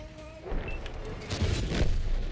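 A heavy boom from an enemy tank shell striking the side of a tank in World of Tanks, followed by low rumbling impacts, loud and close with no talk.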